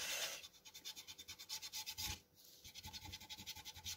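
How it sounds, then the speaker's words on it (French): An eraser rubs out pencil lines on a paper scrapbook page, giving quick, faint back-and-forth scrubbing strokes in a steady rhythm with a brief pause midway. "Je vais venir gommer juste mes deux traits de la photo."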